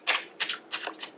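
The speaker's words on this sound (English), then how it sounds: "I already started shuffling" A deck of tarot cards is shuffled close by in four quick, crisp bursts of riffling, each lasting a fraction of a second with short pauses between them.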